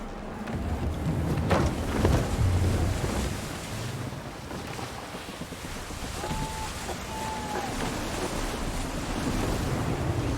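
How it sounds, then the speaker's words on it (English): Gusty wind at sea while sailing in Assassin's Creed 3, a loud, steady roar of wind and surf with swelling gusts and faint whistling tones over the rushing water. "Stay alert, Connor. Gusty winds can be difficult to manage."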